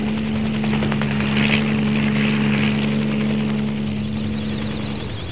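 A helicopter from an old movie flies past, its steady rotor drone and engine hum loud and continuous, easing slightly toward the end, with no voices.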